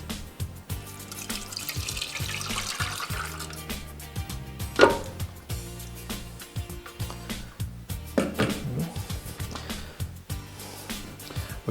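Cherry pepper whiskey sauce sloshing and pouring as it is transferred into a pot, with wet splashing and liquid gurgles over kitchen clatter, louder bursts around the middle and near the end.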